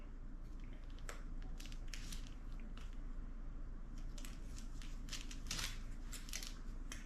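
Scissors snip and crunch through electrical tape at close range, a series of faint irregular crisp cuts and crinkles over a quiet indoor background.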